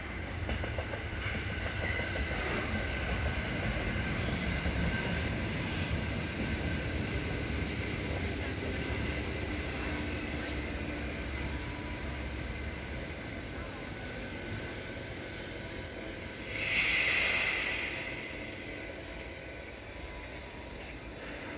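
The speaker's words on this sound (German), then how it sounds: "jetzt kommt noch der alte U-Bahn" An old U-Bahn subway train rumbles past with a steady, loud rolling roar and track clatter, then a brief louder swell near the end as it goes by.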